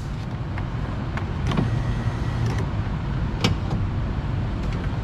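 The power window motor of a 2005 Mazda MPV whirs steadily at close range, a continuous mechanical hum with a few faint clicks and taps over it.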